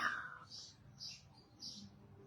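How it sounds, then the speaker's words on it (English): Faint, high bird chirps come in a few short bursts over a quiet outdoor background. "Right now, all I heard is birds, so I think we good."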